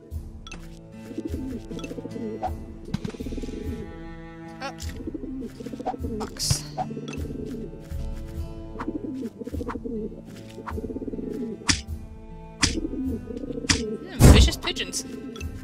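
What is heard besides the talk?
pigeons cooing and being hit in a video game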